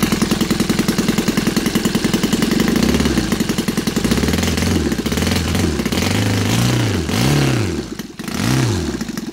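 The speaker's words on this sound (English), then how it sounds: "when it idles, when you let it to idle for a long time" A Saito FA270T four-stroke twin model aircraft engine, converted to run on gas with CH ignition, idles with a steady, loud, close-up chugging rhythm and a few slow, rising surges in speed.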